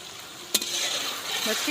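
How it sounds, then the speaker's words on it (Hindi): Fish goes into a pan of cooked masala for a fish curry and is stirred as it fries, with a short clatter at the start, then a soft continuous sizzle and faint scraping. "मछली भी डालते जाएं, साथ साथ मिक्स भी करते जाएं।"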